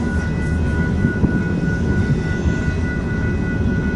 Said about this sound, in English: we got eastbound stack running past them